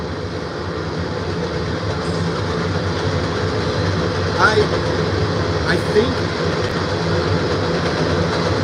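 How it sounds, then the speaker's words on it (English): A train rumbles past loudly near a fishing spot, a sustained heavy low roar with faint metallic squeals, while someone talks briefly over it. "Oh, here comes a train."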